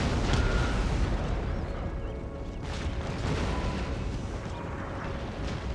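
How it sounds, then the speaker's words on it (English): Cannon and artillery fire in Empire: Total War, a dense rumbling barrage of booms and bursts with no clear individual shots, loud and continuous throughout. "from their cannons. They're firing at our cannons though."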